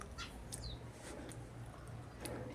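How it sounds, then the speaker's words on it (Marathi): Faint, scattered chirps of sparrows in a tree come through a quiet outdoor background, a few short tweets spread over a couple of seconds. "चिमण्या बघा कशा वरडायला लागले त्या."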